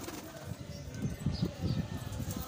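Pigeons coo in a loft while kept birds are being released, with soft, repeated low cooing in quick bursts nearby and a faint background hiss.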